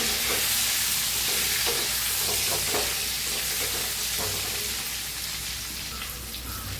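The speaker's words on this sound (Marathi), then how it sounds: "आपण कारली छान असं मिक्स करूया" Stuffed bitter gourds (karela) are stirred in a hot pan, giving a loud, continuous sizzle with soft intermittent scraping throughout and no voices.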